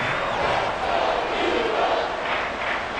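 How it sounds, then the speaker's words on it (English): A stadium crowd in a football video game roars steadily, a broad distant wash of cheering voices that swells slightly before a big third down, with no clear individual voice. "The crowd getting into it as we come up on a big 3rd down."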